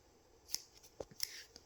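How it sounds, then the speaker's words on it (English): Scissors snip through a long chain of black yarn in a crochet project, a few quiet, close, crisp cuts spaced irregularly in a hushed room. "so you can take your scissors and just cut a long chain for the black."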